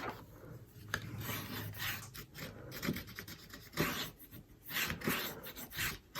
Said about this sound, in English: So just give it a good rub before we open it.